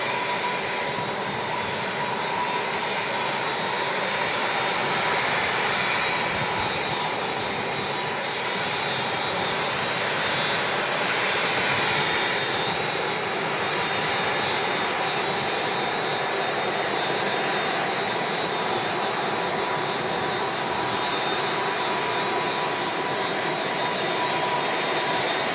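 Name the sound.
aircraft at Manchester Airport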